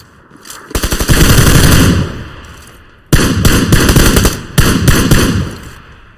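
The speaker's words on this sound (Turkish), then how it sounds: "Biri sıkıyor. Sen mi sıktın lan?" Automatic gunfire in PUBG Lite on the Sanhok map, heard as loud, close rapid bursts, one long stream followed by two more sustained volleys, with brief quieter gaps between.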